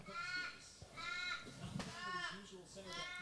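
A crow caws loudly in a series of harsh, rasping calls, three or four repeated bursts close by, over steady background noise with faint voices.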